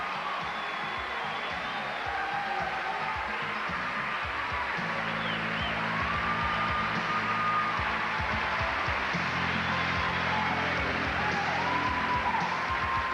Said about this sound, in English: How about one more round of applause for all 51 of these terrific contestants?